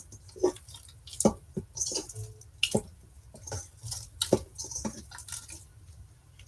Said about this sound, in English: You can hear that squelching sound.